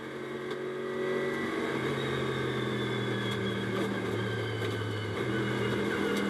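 GT race car engine at the CrowdStrike 24 Hours of Spa, heard onboard from inside the cockpit as a steady, loud droning hum with shifting tonal pitch, running slowly without hard revving.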